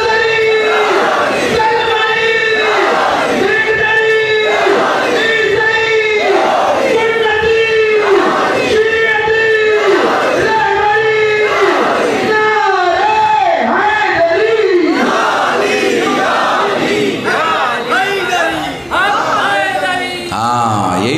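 A crowd at a Shia religious gathering chants slogans in loud unison, a steady repeating call pattern roughly once every second or so, with many voices close by, sustained for a long stretch.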